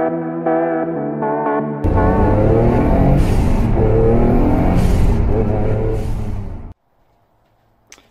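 A Noble M12 GTO3 sports car engine idles with a steady tonal hum, then swells into a loud, close rumbling drone for about five seconds as it drives onto a workshop lift before cutting off abruptly to near silence.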